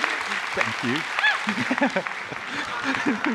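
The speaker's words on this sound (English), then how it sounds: "Can I get a big round of applause, please?" Convention audience applause at a pony fan event's opening ceremony in Holland, clapping running under cheering and excited voices, with people talking and whooping over it throughout.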